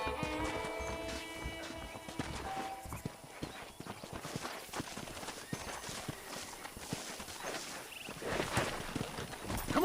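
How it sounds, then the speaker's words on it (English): Saddled horses walking in the Red Dead Redemption video game, with a steady run of hoof clip-clops on hard ground and a brief whinny near the start, fairly faint and set against light ambient game sound. "The horses are saddled up over here."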